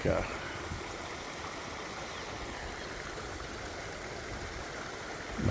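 Water swirling and flowing in a dry reservoir under repair, a steady broadband rush of moderate, even loudness, heard from a short distance with no voices.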